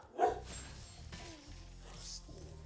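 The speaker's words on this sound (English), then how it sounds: "We apologize for the barking." A single small dog yips once, faint and somewhat distant, over a low background hum.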